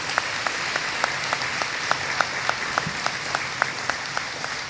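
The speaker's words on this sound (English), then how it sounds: "Let's give him a round of applause." Audience applause at a Relay for Life opening ceremony, thanking an anonymous donor: a steady wash of many hands clapping at moderate distance, with a few sharper individual claps standing out, and no talk over it.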